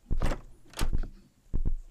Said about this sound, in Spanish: parece que aquí hay una puerta